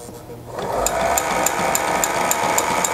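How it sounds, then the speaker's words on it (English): A walking foot sewing machine stitches a strip of upholstery piping over 5/32 inch cord, starting after a brief quiet moment and then running as a steady, close mechanical whir with a rapid, even needle clatter. "Okay, so we'll sew up a strip of piping with some 5/32 cording."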